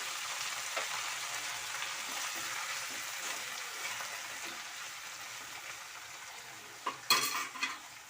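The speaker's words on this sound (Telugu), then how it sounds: "మళ్ళీ ఇదే నూనెలో మనము పుదీనా ఆకు వేసుకుందాం." Mint leaves frying in oil with a steady close sizzle, then louder stirring and utensil clatter near the end, no voices.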